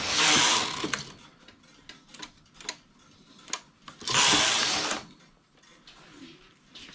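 A knitting machine works a skirt-trouser panel, its carriage raised with two long loud hissing sweeps and scattered mechanical clicks and ratchets in between, close and moderately loud.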